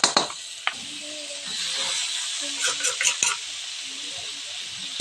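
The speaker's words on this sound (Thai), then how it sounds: "เอาเครื่องแกงลงไปผัดก่อนเลย ใส่น้ำมันนิดหน่อย" Curry paste stir-fried in a little oil in a pan for a Thai catfish curry, giving a steady close sizzle and hiss with light scraping stirs and a couple of sharp clinks.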